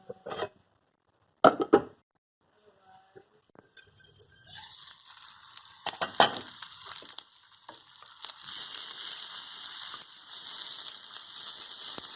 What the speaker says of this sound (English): all you do is cut the sausages and the egg and you throw them into the pan